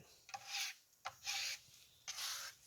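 A quarter-inch notched trowel spreads epoxy across serving trays in three long rasping strokes, each a scraping, rubbing sweep with short pauses between, close and fairly quiet with no talking.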